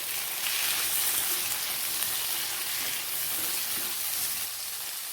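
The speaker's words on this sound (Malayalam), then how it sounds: "വഴന്നു വന്ന ഈ സവാളയിലേക്ക് നമുക്ക് ഈ ടൊമാറ്റോ ഇട്ട് കൊടുക്കാം." Chopped tomatoes fry in a pan with sautéed onions for a potato theeyal, giving a steady, even sizzle and crackle close by, with no talking.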